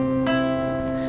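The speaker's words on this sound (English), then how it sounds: "So what I'm plucking is the fifth and the first string together" A guitar plucks two strings together and then a third in a quick pair of attacks over a sustained, ringing barre chord, close and alone.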